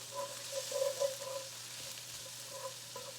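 Chopped onion frying in hot oil in a skillet, a steady soft sizzle with faint crackles and a low background hum, no talking.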